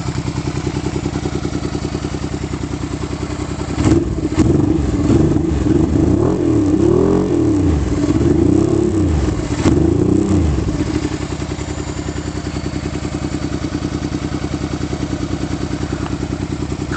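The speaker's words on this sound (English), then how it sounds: "the bike's idling nicely, as you can hear, with the choke off now" A Honda Hawk GT motorcycle engine idles steadily with the choke off on a cool day, a close, even mechanical throb that swells with louder clattering pulses midway before settling back to a smooth idle.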